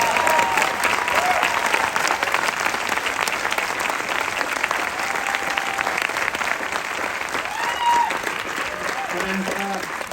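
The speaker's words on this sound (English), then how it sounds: "I'd love just to give a little round of applause and acknowledgement" Sustained applause from the audience at a Sundance 2023 film Q&A, steady and dense throughout, with faint voices and a few brief whoops audible near the end.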